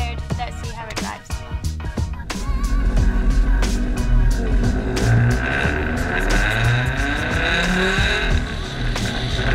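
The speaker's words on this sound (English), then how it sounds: "first thing you notice when you start the car is the noise. It's deafening." Loud engine roar from a fully rebuilt car while driving, a sustained dense mechanical drone with shifting pitch and occasional sharp transients, heard from inside the cabin with no talking.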